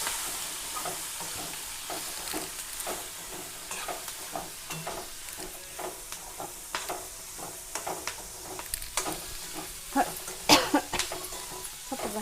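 Spicy North Karnataka green chili palya with salt and turmeric is stirred in a hot pan. A spoon scrapes in quick, rhythmic strokes over a steady close-up sizzle, with a few sharper clinks toward the end.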